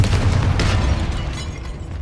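A booming blast from the Confringo spell in Hogwarts Legacy, a single heavy explosion with a rumbling tail that fades over two seconds.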